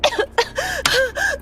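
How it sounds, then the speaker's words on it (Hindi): A woman coughs and gasps in a horror audio drama set on a haunted office floor at night, a few sharp, harsh bursts close to the ear, loud and rapid, alone without talk. "वो जोर जोर से खांसने लगी"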